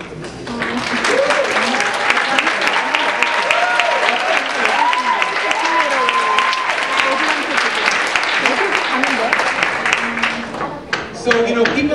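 An audience at a Citizenship Day event gives a round of applause for staff members, steady close clapping that runs throughout, with voices calling and talking over it before the clapping thins near the end.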